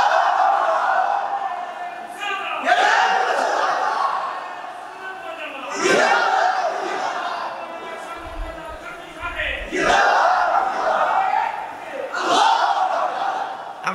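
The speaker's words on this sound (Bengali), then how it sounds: "ওই তাকবীর দিবে কার একটা দিলাও তাকবীর জোরে" A crowd at a Bangladeshi religious sermon gathering chants takbir in loud, swelling waves of massed voices that repeat several times, rising and falling across the hall.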